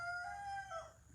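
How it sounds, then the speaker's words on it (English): A rooster crows once, a drawn-out wavering call that rises and then trails off, heard at moderate distance alone. "rooster crowing"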